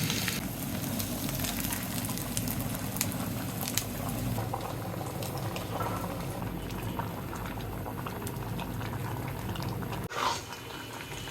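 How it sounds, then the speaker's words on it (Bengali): Rice, lentils and vegetables for khichuri boil together in a pot, giving a steady, close bubbling and gurgling that runs evenly throughout with no talk. "চাল ডাল সবজি সব একসাথে সিদ্ধ করা হয়ে গেছে"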